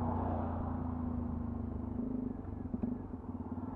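A 2020 Sinnis Terrain 125 motorcycle riding slowly, its engine giving a steady low hum and rumble that fluctuates slightly toward the end, no voices.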